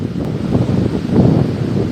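A strong south wind blows across Guaiúba beach in Guarujá on the São Paulo coast, a steady buffeting roar with heavy wind rumble on the microphone and surf beneath, no voices.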